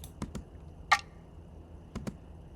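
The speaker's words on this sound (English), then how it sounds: "with the snap added to it, it sounds like this" A crisp snare hit with a bright finger snap layered on top, surrounded by a few soft kick-like thumps in a sparse pattern.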